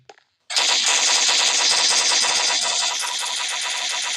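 Dense, continuous burst of rapid automatic gunfire in a Minecraft Gun PvP map, starting abruptly after a brief pause, loud and sustained with a harsh mechanical roar underneath.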